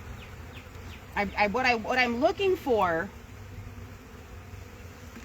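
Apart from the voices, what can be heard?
honey bees buzzing around a hive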